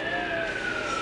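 A fire truck siren wails in a Christmas parade, with an ambulance following, one continuous steady tone at moderate distance blended with street noise.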